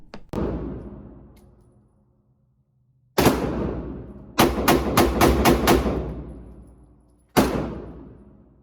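A Sig P365 pistol with a flat trigger fires at a range, with one sharp shot, then a second, then a quick string of five, and finally one more, each loud and close with a ringing decay.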